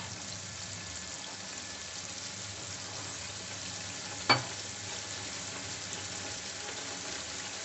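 Egg curry masala fries with a steady, faint sizzling hiss, interrupted once by a single sharp clink of a spoon stirring the pan.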